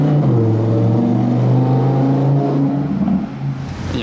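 A race-prepared Ferrari on the Monaco street circuit revs hard, its engine holding a loud, close, sustained howl with rich harmonics and slight pitch dips before easing off near the end.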